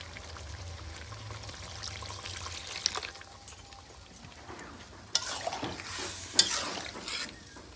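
Water is poured into chicken curry cooking in a pan, a soft trickling splash over a low sizzle, with a few clinks and stirring sounds, moderately close.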